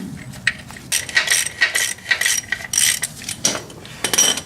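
Clutch bolts are tightened with a ratchet, giving quick bursts of sharp clicking pawl strokes in an uneven rhythm, close and fairly loud, with no talk.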